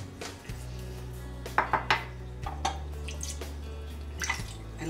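Coleslaw is tossed with a creamy sauce in a bowl, with a short run of utensil clinks and wet stirring sounds over a constant low background hum.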